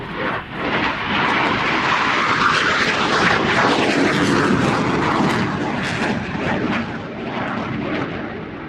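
An aircraft roars overhead at an airshow, a loud sustained engine rumble that swells and slowly fades as it passes.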